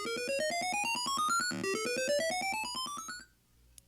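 Synthesized sequence of 12-tone equal temperament notes from an audio shield, a rapid run of short bright electronic beeps climbing steadily in pitch, restarting once midway, then cutting off into near silence with a couple of faint clicks.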